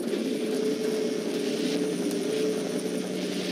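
A helicopter idles at a chopper pad in the video game Splinter Cell Blacklist, a steady close rotor and engine drone with a constant whine and no interruptions.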